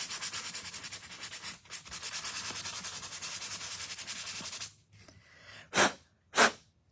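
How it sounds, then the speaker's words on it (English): Mitten ornaments scuffed with 220 grit sandpaper, a close, steady rhythmic rubbing for several seconds, then quieter handling and two short, sharp sanding swipes. "I'm going to take my 220 grit sandpaper, and I'm just going to give them a quick sand."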